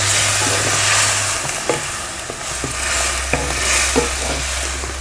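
Stuffed brinjal gravy with milk just added is stirred in a hot pan, a close, loud sizzle with rhythmic scraping and clicking of the spoon over a low steady hum.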